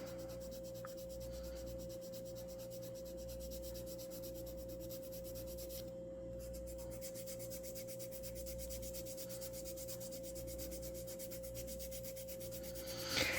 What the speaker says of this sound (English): So I'm going to sand that down.